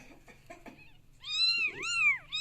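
Several cats meowing up close, a few short soft calls followed by longer, louder drawn-out meows in quick succession.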